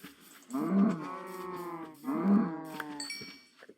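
Two drawn-out cow moos from Minecraft, each about a second long and close by, separated by a short pause with faint background sound between them.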